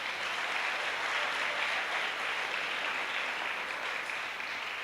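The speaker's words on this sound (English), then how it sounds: "Give them an applause." A graduation ceremony audience at a secondary school claps in a sustained, even round of applause, moderately loud and filling the hall without speech.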